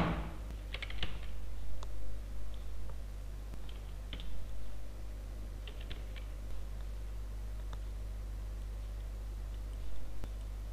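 Keystrokes on a computer keyboard while a school name is typed into a presentation slide, scattered faint clicks in small bursts over a steady low hum, no talking.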